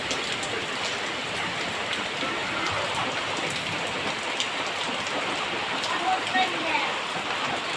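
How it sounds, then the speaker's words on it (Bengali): Heavy rain pours steadily in a dense, even hiss, close and unbroken throughout, with faint voices underneath. "এখন তো বৃষ্টি বেশি"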